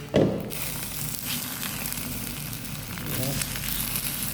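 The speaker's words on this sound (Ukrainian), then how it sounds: "Трошки піджарилось." A low, steady sizzle of food frying in a drop of oil in a pan on a portable gas-canister stove runs throughout, with a brief clatter at the start.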